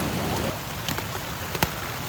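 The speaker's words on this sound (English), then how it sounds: "it is picking up rain again." Steady rain falls on a tent at a campsite, a dense close patter with a few louder drops standing out, continuous throughout with no voices.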